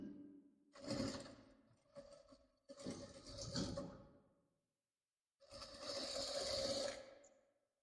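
A sewing machine stitches piping along the side seam of a kameez in short whirring bursts, four runs of varying length separated by pauses, close and clear with no talking.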